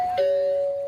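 A single electronic doorbell ding-dong chime at a parcel locker, a clear two-tone ring with the second note held and slowly fading, loud and alone.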